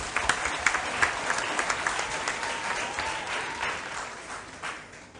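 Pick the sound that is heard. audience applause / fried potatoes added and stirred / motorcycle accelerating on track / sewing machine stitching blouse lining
audience applause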